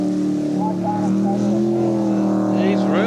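Ford-engined Macraft jet sprint boat with IDA carburetors and a 3-stage unit, racing at a 1989 Waimakariri jetsprint event; a steady, droning engine roar holds throughout, with a commentator talking over it.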